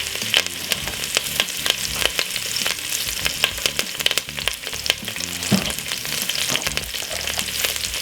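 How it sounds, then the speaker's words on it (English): Vegetables fry in oil in a pan for Jamaican fried fish, with a steady close sizzle and repeated sharp clinks and scrapes of a utensil stirring throughout. "And just pop in all of your veg them inside of it like this."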